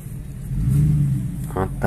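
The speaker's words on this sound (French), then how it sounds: "Ici, on voit encore une Chevrolet qui s'en va." A Chevrolet car pulling away at an American car gathering, a mid-pitched engine rising briefly in a short rev under someone talking.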